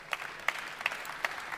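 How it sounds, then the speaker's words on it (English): A few sparse, distinct claps ring out at an evenly spaced, slow pace at a geodata and AI conference as a speaker is welcomed, faint and roomy, over about a second and a half. "A warm applause, please."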